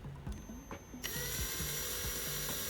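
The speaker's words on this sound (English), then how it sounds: "It's time to do some drilling." Some clicking and rattling, then a power drill twisting wire starts up and whirs steadily at high speed for the rest of the clip.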